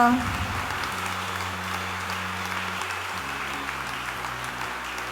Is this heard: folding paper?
no